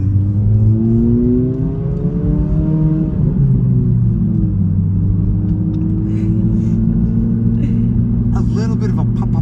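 A Honda Civic FL5 Type R with an aftermarket exhaust drones loudly as it is driven, its engine tone rising and falling through different RPMs, with a voice talking over the rumble.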